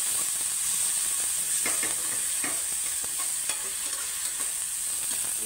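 Onion roasts with salt in a pan while being made into an eggplant bharit, giving a bright continuous sizzle with intermittent stirring scrapes, close and fairly loud, with no voices.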